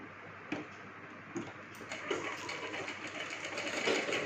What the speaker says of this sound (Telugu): ఇలా అయితే కుట్టుకోవాలి ఇలా స్ట్రైట్గా అనుకొని ఇలా ఫోల్డ్ చేసి